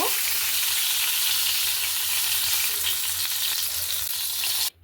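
Pona fish fries in mustard oil, a loud, dense, continuous sizzle close up that runs unbroken until it cuts off abruptly at the end.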